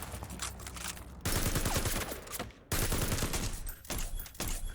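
Shotgun fire in a video game where a diamond riot shield is used: loud, dense bursts of blasts that run for over a second each, broken by short near-silent gaps.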